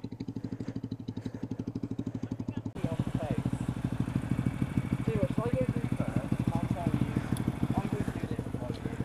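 A motorcycle engine runs through deep flood water, its rapid, even exhaust pulses chugging steadily and close throughout, with brief voices heard over the engine.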